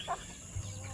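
Brief cluck from an RTL Basilan native chicken for sale, a single soft call standing alone against quiet background noise.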